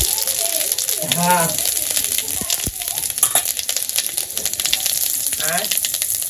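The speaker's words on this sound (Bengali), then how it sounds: "কড়াইতে তেল দিয়ে দিছি, তেল গরম হয়ে গেছে, জিরা রান্না সব দিয়ে দিই" Cumin hits hot oil in a wok with a steady, close sizzle and crackle. Someone talks over it, and there are a few stirring knocks against the pan.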